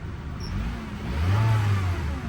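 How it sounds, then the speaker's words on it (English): A Honda car engine idles steadily, then revs up briefly into a louder, deeper roar before easing back down. "Let's give it a little rev, see how the engine sounds."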